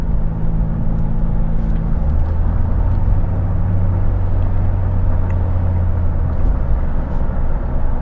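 A hail-damaged car, heard from inside, drives with a loud, steady engine drone and road rumble. The engine pitch drops sharply partway through as it shifts up a gear and then holds a lower hum, with no talking.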